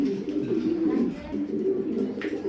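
A colourful pigeon in a loft gives low, soft cooing that runs continuously through the moment, close by, with faint background rustle.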